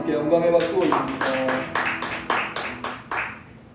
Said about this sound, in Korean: 우리 하나님께 영광의 박수 올립니다.